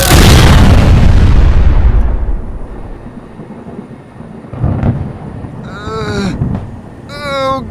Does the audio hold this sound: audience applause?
no